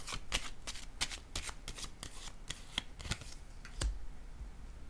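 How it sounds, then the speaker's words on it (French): Playing cards are laid down and riffled on a table, a quick series of sharp papery snaps and flicks spread across several seconds, close and fairly loud, with no talking. "Je vais déposer une carte ici et une carte là."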